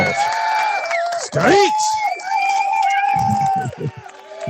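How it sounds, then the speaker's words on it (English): A podcast studio audience cheers a stand-up comedian with whoops, shouts and crowd noise that rises and falls in bursts, while a voice calls out over the noise. "Grab him a round of applause."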